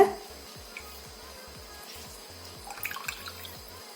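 Water draining from a squeezed cloth of fresh homemade paneer drips in quick, irregular plinks, faint and close, with a soft wet trickle underneath.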